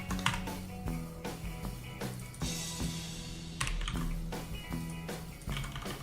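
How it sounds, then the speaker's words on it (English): Close, steady clacking of fingers typing on a computer keyboard, with irregular bursts of keystrokes and short pauses, set against a faint music background. "Keyboard sounds good, not gonna lie, compared to yours."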